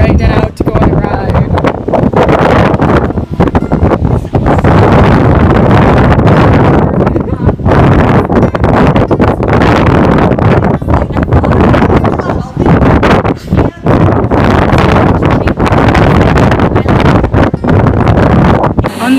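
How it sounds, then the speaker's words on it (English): Strong storm wind buffets a microphone outdoors, producing a loud, continuous rumbling roar with gusty dropouts, while people talk faintly underneath. "Haley, don't get blown away"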